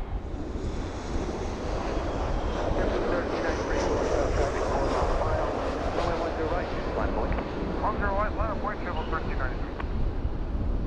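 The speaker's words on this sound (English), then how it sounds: "Definitely Boing Boing Southwest." A Boeing airliner jet roaring past at Fort Lauderdale airport runway 10R, a loud sustained engine rumble mixed with heavy wind buffeting.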